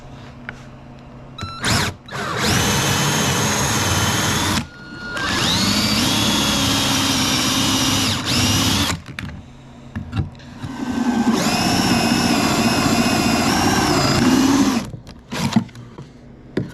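A power drill bores into the roof of a plastic Barbie dollhouse, whining loud and close in three sustained bursts separated by short pauses, with no talking.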